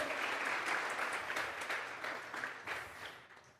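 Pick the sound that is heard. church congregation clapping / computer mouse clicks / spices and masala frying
church congregation clapping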